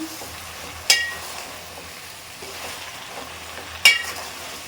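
Prawns with vegetables sautéing in a pan for prawn curry with drumstick, brinjal and potato: a low continuous sizzle broken by two sharp metallic clinks of a utensil against the pan, no talking.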